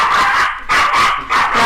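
A female dog barks in several loud, close bursts, reacting to a knock she mistakes for the door, with short gaps between the yips and no talk.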